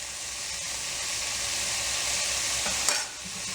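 Vegetables for a restaurant-style vegetable dum biryani, lightly salted, sizzle and fry in a pan over high heat, a steady broad hiss with a faint stir or toss near the end; no talking.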